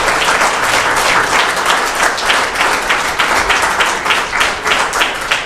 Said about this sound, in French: j'aimerais ça qu'on l'applaudisse, M. Bellemare